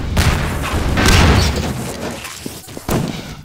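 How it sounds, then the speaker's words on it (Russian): A grenade explosion in the video game Half-Life 2 Deathmatch, a heavy close boom amid gunfire and rumbling game effects, with sharp hits near the end. "Но его убили гранатой."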